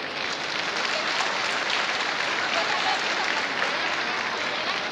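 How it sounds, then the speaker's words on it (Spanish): A crowd at a government resource-handover event in the Ciénega de Chapala region of Mexico breaks into dense, sustained applause, steady and fairly close for the whole stretch. "les pido un aplauso, por favor"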